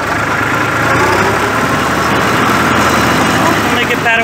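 Grass mulcher working between rows of a vineyard, its engine held at high revs with rotating blades underneath; a loud, steady, close drone that continues unbroken and without speech.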